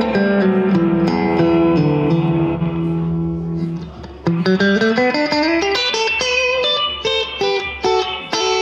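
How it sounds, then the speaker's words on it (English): Clean electric guitar chords and picked notes ringing out through a Blackstar ID Core amp, with a shimmering reverb tail washing behind them. "Nice clean with a bit of shimmering reverb"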